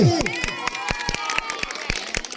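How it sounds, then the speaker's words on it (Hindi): Scattered crowd clapping at a Sankhli game match in Chhattisgarh, applauding the Barwari team; sharp, fairly regular claps ring out over a murmuring crowd, with a brief voice at the start. "बरवारी की टीम के लिए शानदार ताली"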